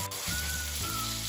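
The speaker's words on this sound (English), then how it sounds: "After adding the ginger garlic paste, saute it for a minute" Ginger garlic paste sautés in a pan with a steady, close hiss and crackle that lasts the short clip, with a low tonal hum running underneath.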